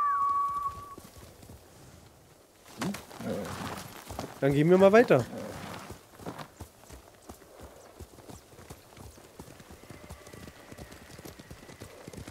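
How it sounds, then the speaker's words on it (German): Hooves clip-clop from a horse in the video game Ghost of Tsushima, a steady trotting rhythm that runs through most of the stretch, with a short whinny partway and someone talking briefly over it. "Pferdchen."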